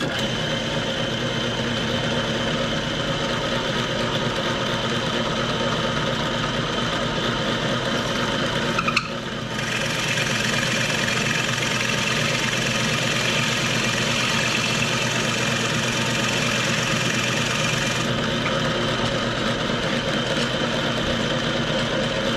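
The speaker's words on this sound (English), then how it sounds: "let's auger these holes out just a little bit deeper" A powered auger drills holes deeper in an old fishing rod rack, giving a loud, steady motor drone that runs unbroken for over twenty seconds, with a brief dip and shift in tone partway through.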